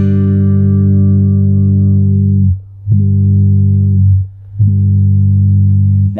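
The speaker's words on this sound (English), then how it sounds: "Now you can hear how the filter works." Sustained filtered tone from a Meris LVX delay pedal with its filter set to pre, a dense low harmonic drone that drops out twice and returns, loud and steady with no talking.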